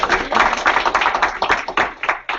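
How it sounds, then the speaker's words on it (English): Audience at a retirement ceremony applauds steadily, a dense clatter of many hands clapping that holds loud and then thins toward the end. "let's give her a round of applause."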